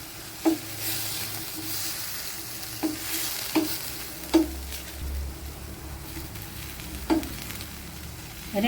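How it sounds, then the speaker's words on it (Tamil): Avarakkai (broad bean) poriyal is stirred in a pan after the lid is lifted, with a low, steady sizzle and several distinct spatula scrapes spaced a few seconds apart. "இடையில ஒரு டைம் லேசாக திறந்து இந்த மாதிரி கிளறி விட்டுக்கிறோம்."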